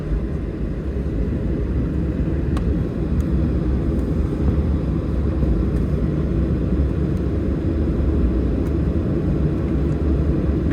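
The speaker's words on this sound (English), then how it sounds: "now time for takeoff." A Virgin Australia Boeing 737-800 takes off from Melbourne, heard from inside the cabin as a loud, steady, rumbling engine roar that fills the whole stretch, with faint clicks and rattles above it.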